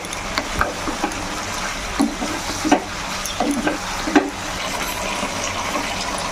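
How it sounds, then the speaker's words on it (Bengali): Chicken pakora pieces stirred into a hot pan for chilli chicken, with a steady close sizzle under irregular scraping and clattering strokes of a spoon, a few sharper knocks standing out; no voices. "এরপর আমি চিকেন পকোড়াটা দিয়ে দিচ্ছি, ভালো করে মিক্স করে নেব।"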